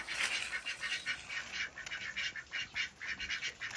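Ducks quack over and over in a rhythmic, overlapping chorus on a farm, fairly close and steady throughout.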